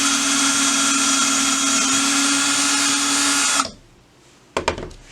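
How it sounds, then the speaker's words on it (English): Electric drill spinning a reamer inside the neck of a brass rifle case, a loud steady high whine for about three and a half seconds that then cuts off, followed by a few brief clicks and knocks. "And I can just run the drill in there,"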